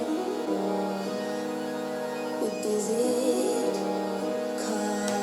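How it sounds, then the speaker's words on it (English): Sustained synthesizer chords are stacked with a brighter arpeggiated line on top, forming a dense, steady electronic texture with no talking. "So if you combine the synths, it will sound like this."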